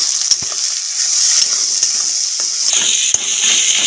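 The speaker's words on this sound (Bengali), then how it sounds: "পেঁয়াজ কেটে দিয়ে দেবো তেলের মধ্যে" Chopped onions, salted, fry in hot oil with a constant bright hiss, and faint scrapes and ticks of stirring can be heard across the sizzle.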